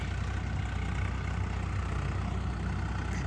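A tractor engine ploughs a village field in Jaunpur, Uttar Pradesh, giving a steady, close diesel rumble with a regular low throb and no voices.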